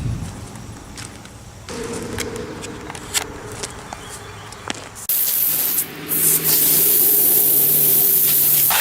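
A steady hiss of spray paint in a shop, continuing for several seconds and growing louder and brighter partway through, close by with faint rubbing and handling noises.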